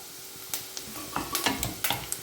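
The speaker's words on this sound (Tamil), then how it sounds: "இப்போது நல்லா முந்திரி பருப்பும் தேங்காயும் நல்லா வறுபட்டுடுச்சு." Cashews and grated coconut toast in ghee in a pan for banana payasam, giving a soft sizzle with a few sharp clicks and scrapes of stirring, close and moderately quiet.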